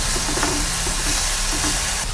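A paste of ground ginger, garlic, green chili and coriander sizzles and fries in a pan on the stove, a constant close hiss with faint stirring scrapes and no talk.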